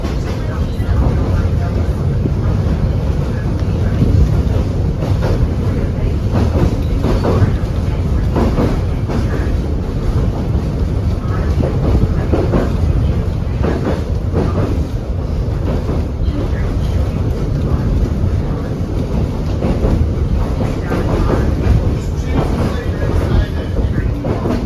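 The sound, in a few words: Kuranda Scenic Railway train running over rails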